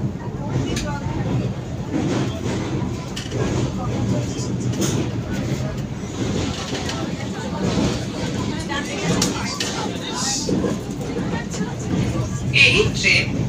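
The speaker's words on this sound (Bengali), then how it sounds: "মহানদীর উপরে রেল ব্রিজ, এবং সেই ব্রিজ দিয়েই যাচ্ছে আমাদের বন্দে ভারত এক্সপ্রেস" Vande Bharat Express passenger train running over the Mahanadi rail bridge, a continuous rumbling, rattling roar heard from inside the coach with people talking in the background throughout.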